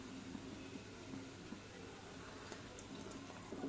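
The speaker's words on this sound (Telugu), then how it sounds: "ఇప్పుడు ఉల్వచారు పోసుకుంటున్నా." Horse gram soup (ulavacharu), Telangana style, is poured into a vessel with a faint, steady liquid rush that continues throughout, with no talking.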